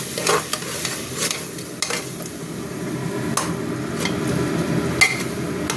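Spice paste for mutton curry stirred and fried in a pan, with a steady close sizzle under repeated scraping strokes of a spoon against the metal, and no talking.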